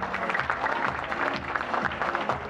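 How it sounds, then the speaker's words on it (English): Audience at a mother's beauty pageant in the Philippines claps steadily and densely, a continuous wash of hands filling the room with faint crowd murmur beneath. "give Sir Joseph Joshua a round of applause"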